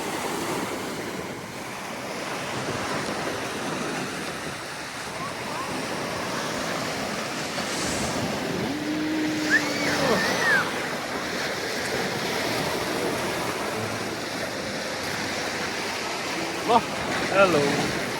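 Waves wash steadily onto the Lake Michigan shore at Sleeping Bear Dunes, with constant surf and wind noise on the microphone. People talk throughout.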